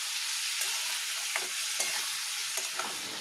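Spice paste frying with potatoes in a pan, a steady dense sizzle with a few soft stirring scrapes and clicks throughout, close and alone.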